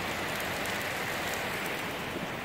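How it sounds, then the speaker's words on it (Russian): Rain mixed with hail falls in Anapa during an outdoor tire change, making a steady, faint, dense patter of drops on surfaces with no talking. "У нас пошел дождь и срывается град."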